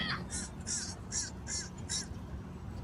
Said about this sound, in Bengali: এই যেটা উপর বসে কাক ডাকতেছে